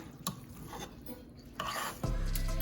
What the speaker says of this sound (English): as you guys can see, it's getting mixed all in there